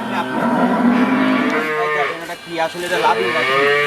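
Friesian and Jersey cattle on a Bangladeshi farm low loudly in a continuous, close moo that rises and wavers for nearly four seconds, with no talking over it.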